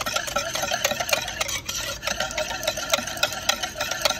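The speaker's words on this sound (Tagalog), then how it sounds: "Ayan, halo-halo tayo sa ating mga sangkap." Ingredients for a galapong glutinous rice dessert are stirred in a bowl, producing quick, repeated scraping and clicking strokes in a steady rhythm, close and fairly loud, with no talking.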